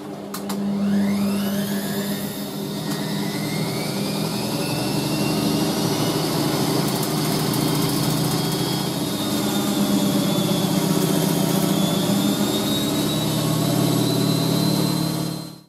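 An ETI Professional Turbodryer 2000 salon hairdryer in aqua runs steadily with no one speaking, giving a loud, continuous airy roar topped by a thin motor whine that holds level throughout.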